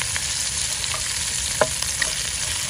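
Garlic frying in a hot pan for a turmeric fried squid dish gives a steady, close sizzle with a few light stirring clicks.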